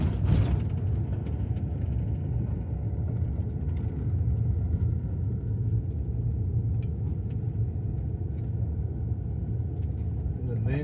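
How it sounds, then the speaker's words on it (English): An old Ford truck rumbles steadily through town traffic, its low engine drone continuous and fairly loud throughout. "Nasty old Ford truck."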